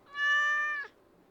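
A cat in the video game Stardew Valley Expanded gives a single clear, close meow lasting under a second, with quiet game ambience after it.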